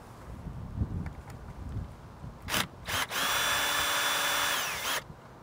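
A power tool loosens the single non-standard bolt holding a roof rack foot on a Kia Niro EV into a metal bar: two short bursts, then a steady high whine for about two seconds that winds down, close up after quiet handling.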